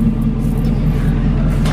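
A custom Chevrolet Tahoe on 26-inch wheels drives by, giving a loud, steady, low engine and road rumble heard close, with no voices.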